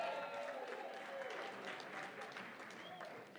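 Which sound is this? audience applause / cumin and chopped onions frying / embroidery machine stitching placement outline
audience applause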